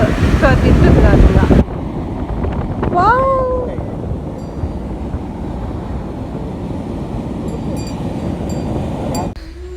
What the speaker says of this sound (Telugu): సో ఇక్కడ ఫుల్ గాలి వస్తుంది అనమాట.